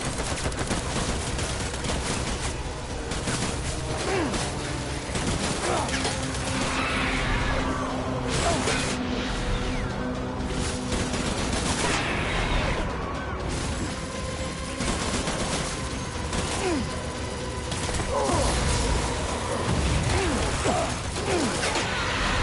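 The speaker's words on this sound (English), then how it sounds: "Open fire." Dense, continuous gunfire and rattling mechanical clatter from the video game Death Stranding Director's Cut, loud and unbroken for over twenty seconds with crashes mixed in.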